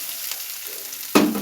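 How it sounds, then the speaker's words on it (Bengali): Grated coconut dropped into a little hot oil in a wok, a faint background hiss giving way to a sudden loud sizzle near the end, close by with no talking. "নারকেল কোড়াগুলো দিয়ে দেবো"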